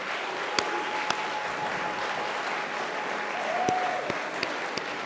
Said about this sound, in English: A round of applause to everyone who's running